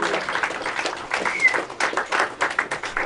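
An audience at a convention for a strategy game's expansion claps in a steady, dense wash of applause that lasts throughout, with a brief whistle or cheer rising in the middle.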